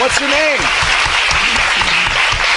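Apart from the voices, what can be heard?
audience applause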